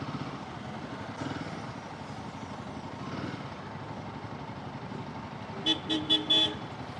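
Road traffic around a stopped motorcycle, with a steady low rumble of engines and a cluster of several short car horn toots near the end, fairly close.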